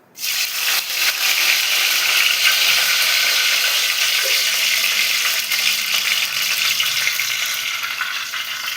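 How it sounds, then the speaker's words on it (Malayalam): Curry leaves hit hot oil in a clay pot and burst at once into a loud, close sizzle, which holds as a steady, intense crackle and fades only slightly by the end. "എന്നിട്ട് എണ്ണ നന്നായി ചൂടായി വരുന്ന സമയത്ത് അതിലേക്ക് അമ്മ കറിവേപ്പില ഇട്ട് കൊടുത്തു"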